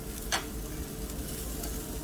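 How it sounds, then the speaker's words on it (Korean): Beef skirt meat sizzles steadily on a grill, a close, continuous hiss with one sharp crackle early on. "지글지글지글지글지글 이거 안창살입니다 안창살."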